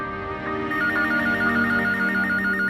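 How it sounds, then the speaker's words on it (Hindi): An indoor telephone rings with a repeating warbling electronic tone that pulses in quick bursts over a sustained musical drone, loud and close with no talking. "उसी का फोन होगा, मैं देखती हूँ।"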